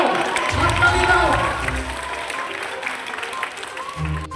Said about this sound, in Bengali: হাততালি দাও, হাততালি দাও।